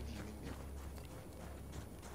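Horse hooves clip-clop at a steady walking pace in the video game Battlefield 1, a quiet, even rhythm of hoofbeats throughout.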